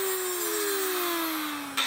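A power tool, likely an angle grinder or cutoff wheel, cuts off the end of a welded metal LED light bar. It gives a continuous loud whine whose pitch slowly falls as it bogs into the metal, then breaks off abruptly near the end, close and with no talking.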